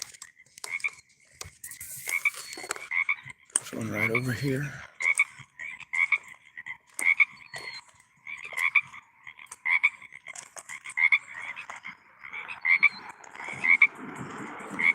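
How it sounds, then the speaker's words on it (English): Frogs croaking at night near Tillamook, Oregon: repeated short, rhythmic croaks from several nearby frogs continue steadily throughout, with a person speaking briefly and some rustling partway through. "frogs can make that sound even if they're underwater"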